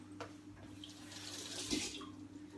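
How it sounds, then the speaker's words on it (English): A kitchen tap runs steadily into a sink as a cafetiere part is rinsed under it, a soft continuous hiss of water with a few faint splashes and clinks. "just rinse that bit under the tap"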